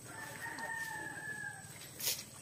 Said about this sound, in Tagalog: Rhode Island chicken.